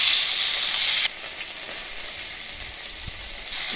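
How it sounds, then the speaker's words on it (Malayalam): Mustard seeds and fresh curry leaves hitting hot oil in a home kitchen pan: a loud bright sizzle that drops to a quieter crackling hiss, then surges again at the end, close up with no talk. "കടുക് പൊട്ടി വരുമ്പോഴത്തേക്കും ഒരു 2 തണ്ട് കറിവേപ്പില കഴുകി ഇതിലേക്കിട്ട് ഇടുക."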